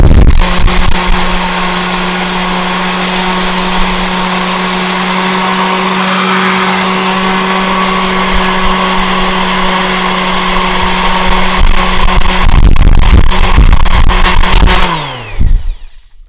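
A random orbital sander runs steadily on wood, held two-handed, giving a loud continuous whine and hum that holds for about fifteen seconds before spinning down at the end.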